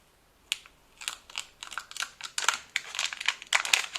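A knife working through plastic packaging on a board, giving a close run of sharp crinkles, snaps and scrapes that grow busier and louder as the cut goes on, with no talk.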